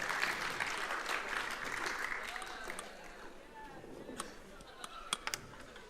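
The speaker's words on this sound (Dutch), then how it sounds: "Geef ze een applaus." An audience at a convention claps in applause for volunteers, a dense patter that gradually thins out, with a voice speaking over it.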